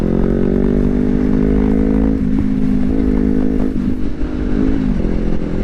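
A Honda CBR250RR sport motorcycle engine runs steadily at close range, its throttle rising and falling in short blips, with no one speaking.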